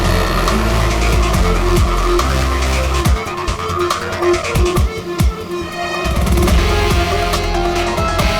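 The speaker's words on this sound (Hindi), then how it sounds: "ये गाड़ी ऐसे क्यों चला रहा है? ये तो एक्सीडेंट कर देगा।" A car driven recklessly, engine revving hard with repeated tire squeals and skids, loud and close with sharp bursts of acceleration throughout.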